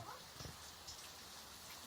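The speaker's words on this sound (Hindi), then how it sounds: "बारिश तेज होने लगा, और बारिश का मजा देखिए" Heavy rain falls outdoors during a maize-field weeding day, a dense steady hiss of drops on surfaces with no speech.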